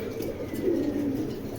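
Racing pigeons of a foreign breed coo in a low, steady murmur, with one soft, drawn-out call standing out midway over a continuous background hum.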